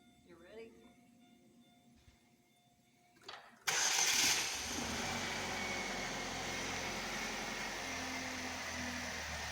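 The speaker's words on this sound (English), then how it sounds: "she fucking runs, huh? Junkyard motor success" A 2.4-liter four-cylinder junkyard engine cranks and catches at about four seconds, then settles into a steady, loud running rumble with a broad mechanical roar; quiet room noise precedes it.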